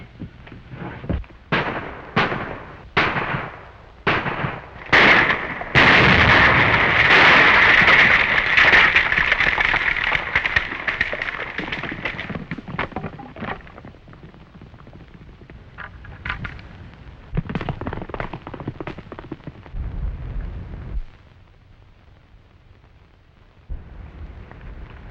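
Dynamite explosions in a 1937 western film: a rapid series of sharp blasts building into a loud, sustained roar with debris, then scattered later bangs fading toward quiet with low rumbles.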